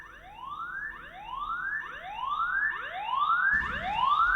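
A loud rising electronic security camera siren whoops repeatedly in overlapping upward sweeps, growing louder with a burst of noise near the end.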